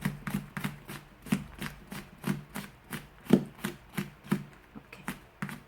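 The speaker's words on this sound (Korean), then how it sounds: "점점 살살살살 뒤로 가면서 눌러가면서 앞으로 밀듯이 채를 이렇게 썰어줍니다" A knife slices vegetables into fine julienne strips on a cutting board, giving a soft, even series of about a dozen close chopping taps with no talk.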